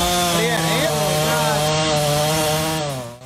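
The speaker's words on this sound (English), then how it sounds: "Those are Western New York chainsaws ripping through the destruction left behind by Hurricane Ida" Chainsaws from a tree removal crew cut through fallen trees and storm debris left by Hurricane Ida. A loud, close, continuous engine whine shifts in pitch as the blades bite, then drops away at the end.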